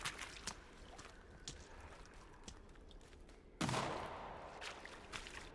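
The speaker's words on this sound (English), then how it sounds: "I heard a gunshot" A gunshot in the video game Sons of the Forest, one sharp loud blast with a decaying rumble after several fainter distant pops.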